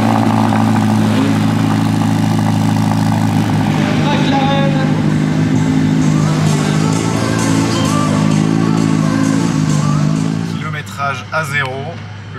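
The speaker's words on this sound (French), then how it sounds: "Les moteurs vont démarrer." Several Ferrari Roma engines rumble and idle together at the start of a day of a road rally, a loud continuous drone with rising revs, and a voice speaks briefly near the end.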